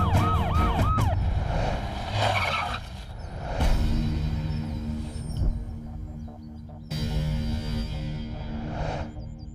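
Police sirens wail with rising and falling tones over a loud, rumbling background, the sound swelling and fading as vehicles close in.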